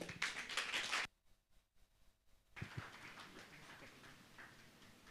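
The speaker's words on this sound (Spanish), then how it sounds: "Vamos a recibir, por favor, con fuertes aplausos al grupo de estudiantes" A church audience at a Father's Day service claps to welcome a student theatre group. A short burst of applause cuts off into near silence with scattered taps, then faint clapping and shuffling return, all fairly quiet.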